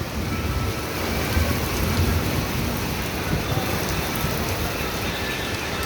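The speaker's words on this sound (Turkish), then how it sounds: "Bereketli yağıyor Ramazan abi." A thunderstorm sends a loud, constant wash of heavy rain outside a shoe repair shop in Fatih, Istanbul, with low thunder rumbling beneath the close, steady patter.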